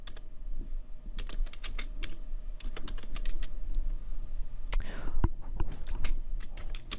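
Someone types on a computer keyboard while filling in a Google Form, with quick irregular clusters of close, crisp keystrokes and a few harder key clacks.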